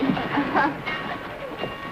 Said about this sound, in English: Your train's about to leave.